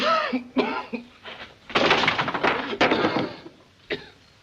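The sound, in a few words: man coughing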